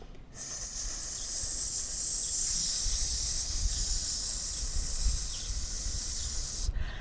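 A person imitates a snake with a long, steady, loud hiss held for about six seconds during a children's yoga cobra pose, with low rumble underneath.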